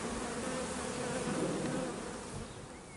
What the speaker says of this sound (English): we're hoping that the flying bees will go into this hive, not cause too much chaos